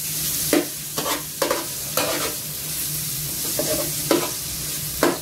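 Onion and garlic sautéing in a small amount of cooking oil produce a steady sizzle, broken by several sharp scraping strokes of a stirring utensil spaced irregularly, close up and without speech.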